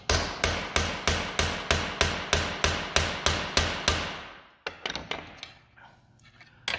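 A hammer strikes steadily and close up about a dozen times at an even pace, setting a soft iron rivet in sheet metal, followed by several lighter, irregular taps.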